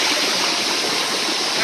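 River water flowing from a steaming hot spring in a village, a steady, close, full rush with no pauses or voices.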